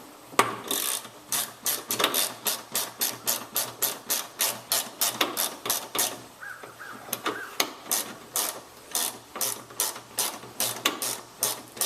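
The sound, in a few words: ratchet turning while replacing Pontiac G6 headlight bulbs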